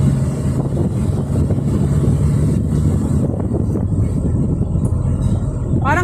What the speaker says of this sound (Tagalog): Parang hirap yung makina mo, Bern.